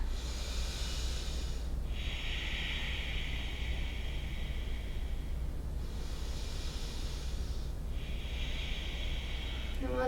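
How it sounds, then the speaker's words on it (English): Ujjayi breath during a pranayama session comes as slow, oceanic throat-constricted breaths, each long hissing inhale or exhale lasting several seconds, close and steady over a constant low hum. "So ujjayi breath."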